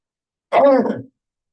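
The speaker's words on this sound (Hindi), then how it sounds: "सॉरी, थोड़ा सा खांसी के चक्कर में आपको डिस्टरबेंस हो रही है।" A single short, rough cough or throat clear, close and abrupt, with silence before and after.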